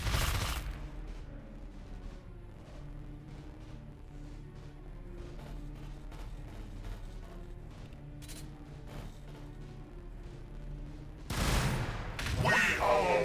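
Gunfire in the video game Warhammer 40,000: Battlesector, a steady stream of rapid shots and crackling impacts over a low rumble for most of the clip, swelling into louder bursts near the end.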